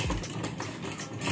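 A hand crank on a homemade table saw built from a water jet pump motor is turned to raise the blade, giving a dense, steady mechanical whirring and rattling with no pauses, close and fairly loud.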